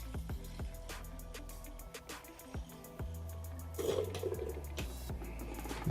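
Coolant gurgles and flows through a PC water cooling loop with GPU block, a steady liquid churn with bubbling pops and faint clicks at moderate level.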